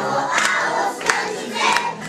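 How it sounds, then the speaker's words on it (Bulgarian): Mothers applaud children performing at a March 8 celebration, a short burst of crowd clapping and cheering that swells and dips over about two seconds. "Мами, пляскайте на вашите артисти!"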